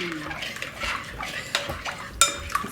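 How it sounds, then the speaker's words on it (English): A utensil stirs flour into a play dough mixture in a pot, giving repeated scraping and clinking strokes with a few sharper knocks against the metal, close and uneven in rhythm, with faint voices in the background. "You see, we have to stir it."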